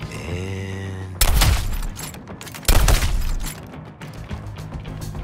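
Rapid bursts of gunfire from weapons in Suicide Squad: Kill the Justice League, two loud volleys about a second apart breaking over a tonal hum, then trailing into crackling debris and lingering noise.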